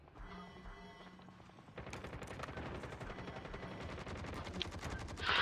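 Rapid automatic gunfire in a Call of Duty Mobile battle royale match on Alcatraz. Quieter ambience gives way to sustained bursts of close, rattling shots that grow louder toward the end.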